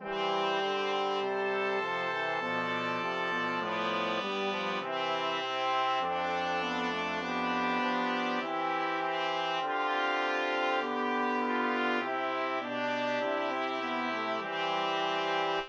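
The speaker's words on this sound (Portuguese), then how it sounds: "E agora nós temos que escutar o sujeito no tom maior" A fugue subject plays in a major key, a continuous instrumental line of sustained, overlapping notes moving steadily in pitch, with no talking.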